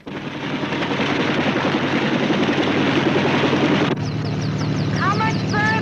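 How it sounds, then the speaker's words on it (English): Army helicopter flying toward Las Vegas, a loud steady rotor and engine drone that holds for several seconds, then eases a little as high whistling tones rise over it. "The Army is rushing 2 doctors to Las Vegas by way of helicopter."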